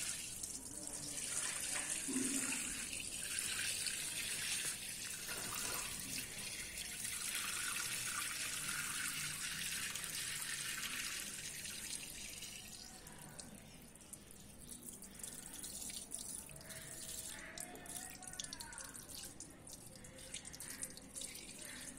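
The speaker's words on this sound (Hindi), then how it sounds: "सारे पानी को छान लेंगे।" Starchy, frothy water strained through a cloth while making traditional Pakistani nishasta in a village kitchen, a steady continuous pouring and trickling wash with liquid splashes, fairly close and unbroken throughout.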